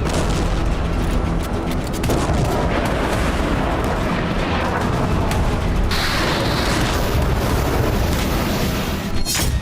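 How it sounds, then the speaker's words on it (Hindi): Bombing from US air strikes on Iranian militia sites in Iraq and Syria at night: continuous heavy booms and rumbling blasts overlapping in dense, loud succession, with sharp cracks near the end. "बमबारी से दोनों जगहों पर भारी नुकसान हुआ है।"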